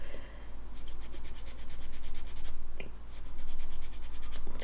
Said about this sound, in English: this is a fairly coarse grit on the sanding stick